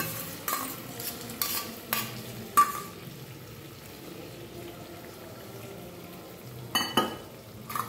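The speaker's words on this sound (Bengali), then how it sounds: "কাজু বাটাটা দিয়ে দেব।" Cashew paste goes into a cooked spice masala for a chhena curry and fries quietly in the pan, with a low sizzle broken by a few scattered scraping stirs.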